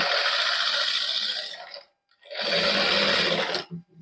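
Sewing machine stitching buckram onto a garment neckline, two fast continuous whirring runs of needle chatter separated by a brief pause, close and clear with no talk.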